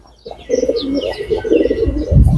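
Silver pigeons coo loudly and close by in a steady, rolling series of throaty calls with a few faint chirps mixed in, ending in a heavier burst of cooing.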